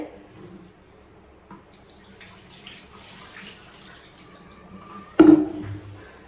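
Water runs from a pipe fed by a tank, a low steady trickle with a few light knocks before a louder gush of splashing near the end.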